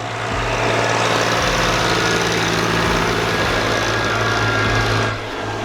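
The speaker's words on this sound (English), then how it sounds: "Some teenager driving a tractor." A tractor engine in the Swiss countryside rumbles steadily and loudly up close, a low continuous drone that eases off near the end.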